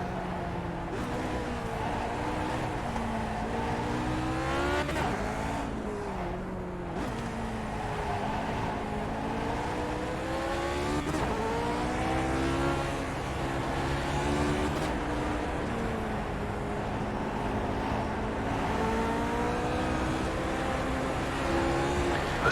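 Lotus 49 race car at the Nurburgring, a continuous high-pitched engine wail rising and falling with gear changes and braking, loud and steady throughout.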